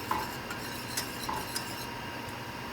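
A utensil stirs soft caramel sauce in a pan, giving light, scattered scrapes and small metallic clinks over a faint background hiss, fairly quiet and without voices.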